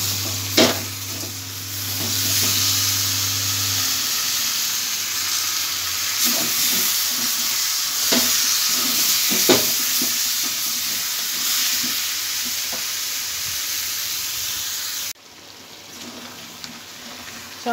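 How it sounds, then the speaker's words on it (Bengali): Potatoes frying with tomato paste for Kashmiri alur dum, stirred in a pan: a steady sizzle with repeated scraping and clinks of the spoon, and a short low hum near the start. "এগুলো ভালো করে আলুর সঙ্গে মিশিয়ে নেবো।"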